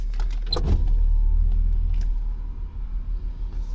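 Electric motor whirring as the hardtop roof of a BMW E36 opens, a steady mechanical drone with a low rumble and a few faint clicks and knocks, heard close up with no talking.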